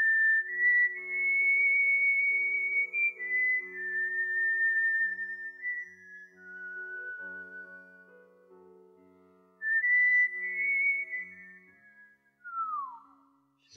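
A person whistles a varied melody alone, pure and clear, with long sustained tones, gliding pitch changes and short pauses between phrases, close and steady throughout.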